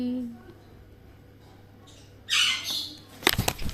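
A ringneck parrot at home lets out a couple of sharp, loud squawks near the end after a quiet stretch, with a harsh flutter of calls close by.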